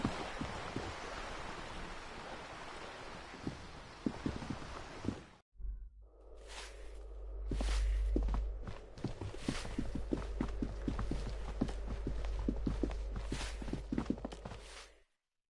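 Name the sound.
footsteps going up a staircase in the video game Disco Elysium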